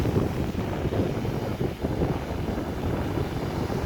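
Steady wind blowing outdoors, buffeting the microphone with a constant low roar that barely dips, with no voices.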